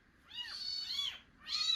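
Kittens in a cattle shed give three faint, high, rising-and-falling meows, two close together and one after a short pause, with no talk.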